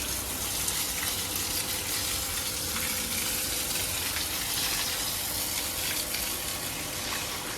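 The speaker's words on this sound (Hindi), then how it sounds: "ये पानी के छींटे आएंगे।" Water driven by a motor-run pump gushes and splashes continuously, a steady broadband hiss with no pauses and no voices.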